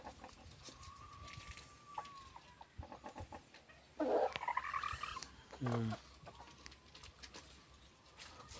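Chickens cluck and squawk outdoors, a few loud calls standing out over quieter scattered clucking and faint background noise.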